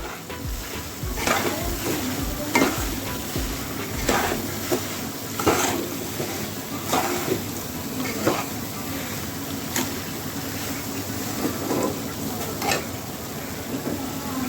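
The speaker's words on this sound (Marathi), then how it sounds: "मस्त सारखं हलवायचं फक्त हलवून अजिबात बंद करायचं नाही" A spoon scrapes and stirs bhura sugar around a hot pan without pause, giving repeated rhythmic scraping strokes over a faint constant sizzle, close and moderately loud.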